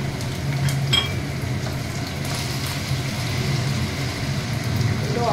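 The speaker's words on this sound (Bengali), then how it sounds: "এবার তেলটা গরম হয়ে গেছে, এবার আমি ছোট ছোট কেটে রাখা আলুগুলো" Small diced potatoes frying in hot oil in a home kitchen, a steady low sizzle running throughout with a brief clink of utensils near the start.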